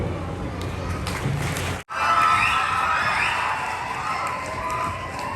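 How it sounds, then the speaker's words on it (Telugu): Students at a school gathering clapping and cheering, a lively crowd roar with shouts, briefly cut off, then swelling again and continuing steadily. "మీ సార్ వస్తున్నారని కదా అంత చప్పట్లు"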